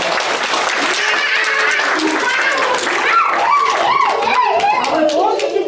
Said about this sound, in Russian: давайте похлопаем друг другу!